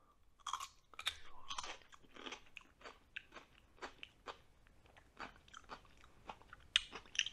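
Close, quiet crunching bites and chewing of raw chayote con espina, a spiny squash, with crisp irregular crunches repeating over several seconds.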